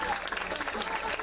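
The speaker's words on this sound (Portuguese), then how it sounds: "aplausos para os noivos," Short burst of crowd applause for a bride and groom at a celebration, steady dense clapping mixed with some voices, fairly distant and even throughout.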